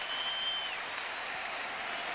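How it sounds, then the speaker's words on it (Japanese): A basketball arena crowd at an NBA game in 2003, Wizards versus Sixers, roars and applauds steadily as Michael Jordan returns to the court, a dense, even wash of noise with no single voice standing out. "観客の声援に応えて、うん、ついにジョーダンがコートに戻ってきます。"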